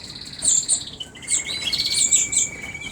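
Birds in a yellow cage chirp in short, bright bursts, several quick tweets overlapping at close range against a quiet background.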